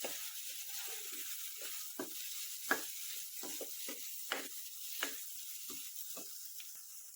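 Spices with salt and coriander powder sizzle in a pan for egg curry, a steady close frying crackle broken by repeated scraping strokes of a spoon stirring the masala, with no talking.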